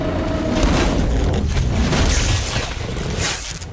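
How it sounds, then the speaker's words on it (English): Claymore mines detonate in a Predator film scene, a loud sustained blast with heavy low rumble and crackling debris lasting several seconds before tapering slightly. "he triggered the explosives. The resulting explosion claimed both Nikolai and the tracker Predator."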